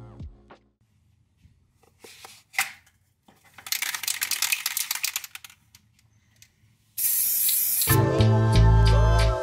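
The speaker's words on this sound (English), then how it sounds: "Dumping out a fire extinguisher, I'm gonna use it as an air tank." An old fire extinguisher is emptied, with scattered clunks and handling knocks leading into bursts of hissing spray, then a loud, steady rush of discharge toward the end.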